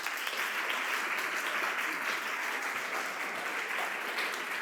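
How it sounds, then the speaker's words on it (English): Steady, dense applause from a conference audience, sustained at an even level throughout without any speech over it. "A big round of applause, please, now for Professor Mark Turner."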